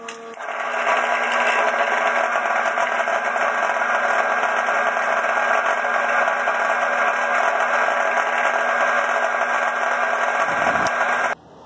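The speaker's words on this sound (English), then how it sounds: "now we should be able to be ready to start drilling some holes" Power drill running continuously while boring dowel holes into a VW crankshaft, a steady whining motor drone held for about eleven seconds, loud and close, then cutting off abruptly.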